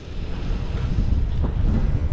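Steady wind blowing hard against the microphone on a bike ride along the Dampalit Mega Dike, a low rumbling roar that continues throughout with no voices.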